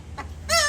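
A talking bird at a resort imitates a chicken, giving a short, close clucking call with a harmonic, voice-like tone that rises at the end, heard alone in a quiet setting.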